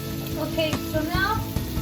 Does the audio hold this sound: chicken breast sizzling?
yes